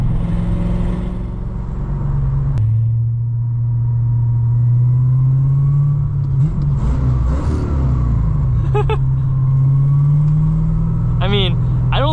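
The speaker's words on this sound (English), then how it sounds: "You guys are just hearing the exhaust leak." A car engine with an exhaust leak rumbles loudly and steadily, swelling as it revs, with brief rasping bursts near the end; a voice talks over it.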